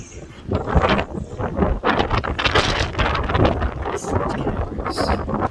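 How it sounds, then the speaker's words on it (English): Strong, gusty wind from Hurricane Ian roars steadily around a boat riding out the storm at a dock, buffeting the microphone with loud, rough rumbling throughout. "Quiet, besides the wind."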